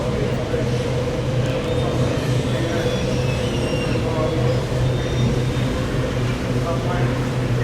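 A tram rolls steadily through an airport's underground station, a continuous rumble with a low hum, close and loud from start to finish, with no voices.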